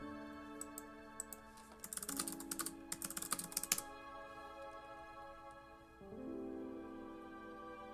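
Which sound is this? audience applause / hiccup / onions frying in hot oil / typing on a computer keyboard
typing on a computer keyboard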